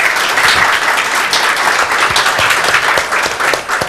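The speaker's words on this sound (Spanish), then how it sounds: "un aplauso a Katia" Audience applause fills a panel session on constitutional reforms and women's rights in Latin America: dense, steady clapping from a sizeable crowd that holds at full strength throughout the four seconds.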